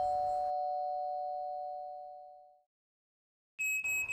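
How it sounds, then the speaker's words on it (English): A two-tone doorbell chime rings out and fades slowly into silence, then a sharp electronic tone cuts in at the end. "the doorbell"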